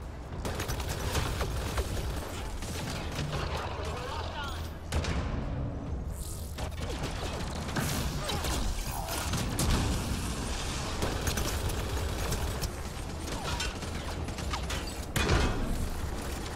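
A hangar door's closing mechanism in the video game Mass Effect: Andromeda gives a steady mechanical grinding and creaking under dense, booming combat noise, with a loud burst near the end and no talk.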